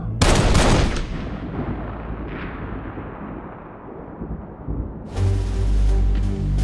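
A volley of rifle fire from a firing squad at an execution cracks out loud and close, its booming echo slowly fading before a second heavy burst of gunfire erupts.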